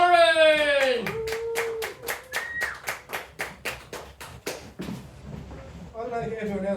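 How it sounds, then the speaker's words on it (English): Comedy club crowd in County Kerry clapping for a comedian, a run of about a dozen distinct, evenly spaced claps rising over a live room after a host's amplified voice, with talking and murmur returning at the end. "Please give a big round of applause for the fantastic Ruairi Haloran!"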